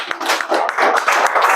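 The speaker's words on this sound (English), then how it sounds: "Let's have a clap." A school class clapping together, a short burst of uneven, close hand claps with scattered taps, brief and fairly loud.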